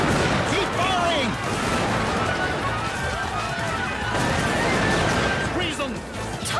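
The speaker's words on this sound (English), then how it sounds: "Keep firing!" Musket gunfire in an animated battle scene, a dense clamor of shots and crashes mixed with shouting voices and dramatic music throughout.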